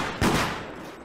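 A single gunshot cracks out in the multiplayer game Deceit, one loud, sharp burst close up that decays quickly into a rumbling tail, with no talk over it.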